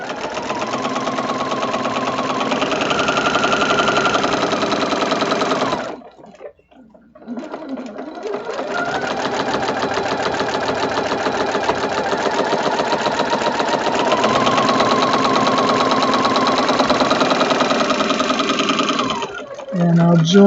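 A sewing machine stitches fabric for quilted scrap French roses, running in a fast, close mechanical rattle that pauses for about two seconds partway through, then resumes steadily.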